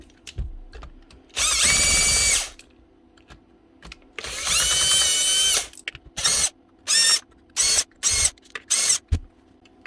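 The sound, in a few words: power drill torquing off a broken DeWalt drill chuck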